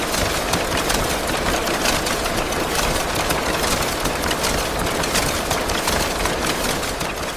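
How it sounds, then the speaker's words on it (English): A high-speed tea bag packing machine runs steadily in a factory, its dense, continuous mechanical whir and rapid clatter holding an even, loud level throughout with no talk. "The modern tea bag machine performs 5 simultaneous operations: forming, sealing,"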